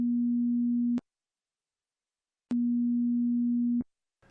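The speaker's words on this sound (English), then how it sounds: "we are using sine waves instead of triangle waves" Two steady sine wave tones sound in unison, each held about a second or more, separated by a silent gap and ending with clean clicks.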